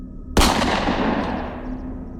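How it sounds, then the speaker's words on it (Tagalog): A loud gunshot sound effect in a horror story, one sudden sharp blast after a quiet hum, followed by a long echoing decay. "Pagkatapos ng putok ng baril,"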